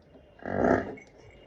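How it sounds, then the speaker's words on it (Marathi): One loud, close moo from a buffalo or cow swells and fades within about half a second against a quiet background. "हे घ्यात लईच वरडते म्हशी गाईच"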